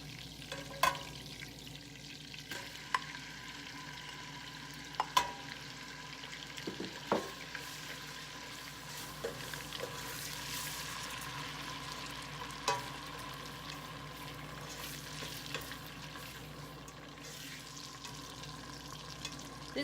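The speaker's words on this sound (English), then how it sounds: "now I'm going to add in my tuna" Tuna is added to a frying pan and stirred into a sauce, a steady low sizzle running throughout with scattered scraping and tapping of a utensil against the pan.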